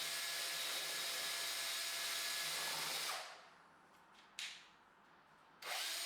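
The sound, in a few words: drill with mixer paddle mixing paint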